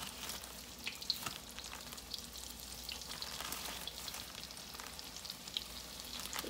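Sliced summer squash fries in hot oil, a steady soft sizzle with scattered small pops and crackles running throughout at a low, even level.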